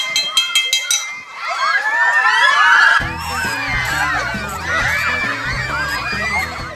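Children shout and squeal in high, overlapping bursts while playing on a hillside in Barangay Alegria, Antique, with a few tones at the start and the excited cries rising and falling over a background of music.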